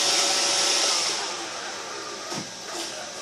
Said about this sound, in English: I'm going to turn the roomba off because it's kind of loud and annoying.